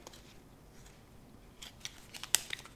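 A deck of cards is cut for a reading on a glass table: a few soft rustles, then a quick cluster of crisp clicks and snaps near the end, close and quiet with no talking.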